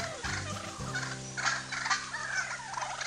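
Wild turkeys gobbling outdoors on rural land, a run of loud rattling gobbles with strong harmonic bands, several calls overlapping, fairly close and with no talk over them.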